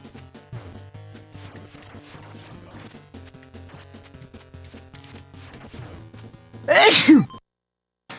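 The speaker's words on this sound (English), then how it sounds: "Remember that sneeze that I said my body was fighting? There it is." One sudden, loud sneeze bursts out near the end, after a stretch of soft tonal melodic sounds from an RGB-modded NES console, followed by silence.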